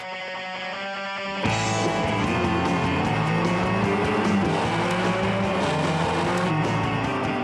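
Race cars at the Monaco Grand Prix roar loud and close, a sustained high engine howl that jumps in abruptly after a quieter opening and carries on with layered revving and shifting.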